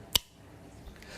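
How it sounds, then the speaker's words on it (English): A single sharp click, short and close, followed by a faint softer tap in near silence. "And that's a light switch."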